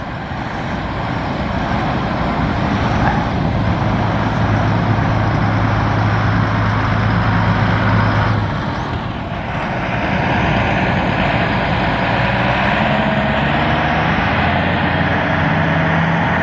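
Outboard motor on a boat, trimmed down while floating off the sand in early-morning surf, runs as a loud, steady broadband drone for about sixteen seconds with a brief dip midway, no talking over it.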